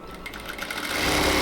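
A sewing machine stitching a half-inch fold on a salwar, a rapid, even mechanical whirr that builds slightly in loudness over a brief moment, close by and alone.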